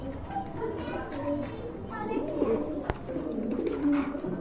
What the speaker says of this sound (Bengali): এখানে কিন্তু কোয়ালিটি সম্পন্ন এক জোড়া কবুতর আছে, খুবই সুন্দর, অনেক বড় সাইজের কবুতর